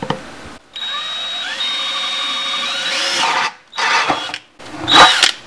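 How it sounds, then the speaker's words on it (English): Power drill with a 3/8 inch bit boring through a plastic water filter lid, a whining motor that climbs in pitch for several seconds, then stops, followed by two shorter bursts of drilling. "we're going to drill right down the lid,"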